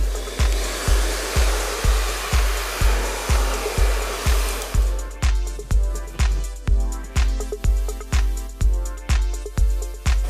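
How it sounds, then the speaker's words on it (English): A hair dryer blows steadily while styling hair on top of the head, its airflow noise loud and continuous, joined by a rapid regular pulsing thump that runs through the whole stretch. "I blow dry the hair on top of the head backwards to create extra lift around the face."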